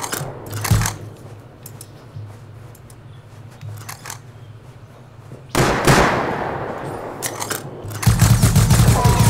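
Gunfire in the survival game Rust during a raid: bursts of sharp cracks and rattling shots, quiet stretches between, then a loud sustained volley near the end, with no talk over it.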